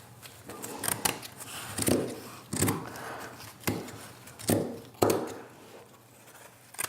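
Scissors trim excess burlap on a bunny door hanger, heard as a series of crisp, rustling snips in irregular bursts of about two seconds each, close by and fairly quiet with no talking.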